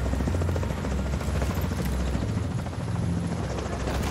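Helicopter in the video game The Division 2, a loud, close, continuous rotor chop with a low droning buzz, steady throughout with no talk.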